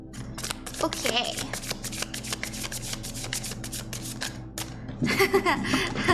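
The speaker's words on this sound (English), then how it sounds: "I know I shuffle a lot" Tarot cards are shuffled rapidly and repeatedly up close, a dense riffling rustle with brief pauses, while someone speaks faintly underneath.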